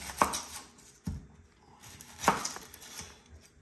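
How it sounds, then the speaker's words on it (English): A knife cuts through a red onion on a cutting board in a few separate sharp chops, spaced roughly a second apart, close and fairly quiet. "Slice each side off the top."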